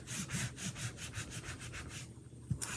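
The handle end of a paste scraper rubs back and forth over a stencil in quick, soft, rhythmic strokes, close and quiet with no talking.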